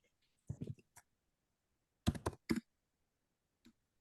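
Quiet, close typing on a Spanish computer keyboard comes in short bursts of a few key clicks separated by silent pauses, ending with a single tap.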